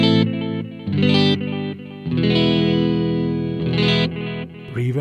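Electric guitar played through a VOX AmpPlug headphone amplifier with the delay effect engaged, several distorted chords and short phrases whose repeats trail behind each stroke, loud and close with no voices.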